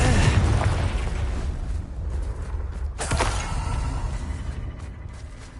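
A Confringo fire spell bursts in Hogwarts Legacy free roam on PS5: a loud, dense explosive rumble that runs throughout, with a fresh crackling blast around the middle as the blaze rolls on.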